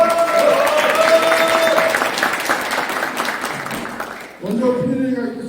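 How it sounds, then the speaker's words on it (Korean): Audience claps to open a civic policy debate in a city hall conference room, a loud sustained wash of applause with a tonal hum underneath that breaks off, then a voice speaks over a brief hall sound. "천안천 지역 명소와 발전 방안 모색 정책 토론회를 박수와 함께 시작하도록 하겠습니다"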